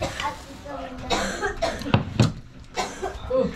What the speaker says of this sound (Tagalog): Wala, inubo na.